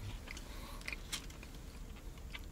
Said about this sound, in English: Let's just try these fries first, see how screaming hot they are.